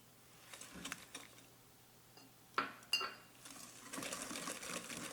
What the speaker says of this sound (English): let me mix these up first